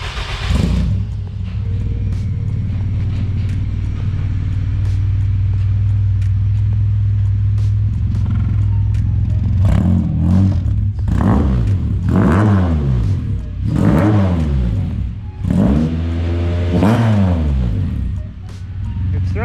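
A race car engine cranks, catches and settles into a loud rumbling idle, then is revved sharply in a series of rising and falling blips. The sound is close and throaty, and voices murmur underneath.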